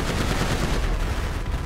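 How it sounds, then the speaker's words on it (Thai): Rapid machine-gun fire from the weapon in a GTA V Iron Man Hulkbuster mod, a loud, dense, continuous burst close up with no talking over it. "อันแรกก็เป็นปืนกลก็แรงพอสมควร"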